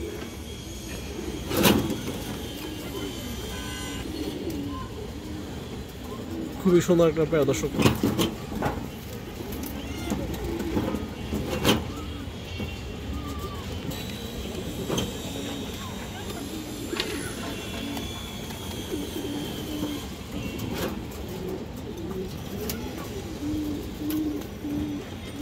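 Pigeons of a pair offered for sale, the female bred from Bezi stock, coo softly and intermittently beneath nearly continuous close-up talking.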